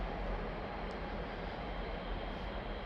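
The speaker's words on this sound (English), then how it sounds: "I got that train, and there's another one coming" A freight train passes in the snow as a steady, broad rumbling roar, loud and close, holding without a break over a few seconds with no voices.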